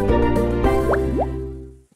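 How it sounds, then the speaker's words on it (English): In the Fishdom mobile game, water is released onto the fish as a series of bright cartoon plops and drips over a sustained musical backdrop, ending in a short fade and quiet. "Now release water to save our cute fish."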